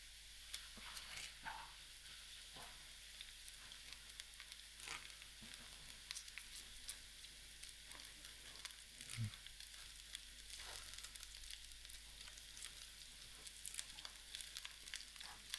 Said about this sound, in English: I will allow these onions to fry till soft